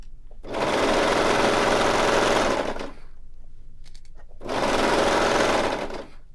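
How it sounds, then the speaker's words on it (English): Serger overlocker stitching a half-inch seam on a bag lining, two loud sustained whirring runs of rapid stitching separated by a brief pause with small clicks. "here at the bottom I'm going to start serging again. And I'm serging 1/2 inch seam allowance"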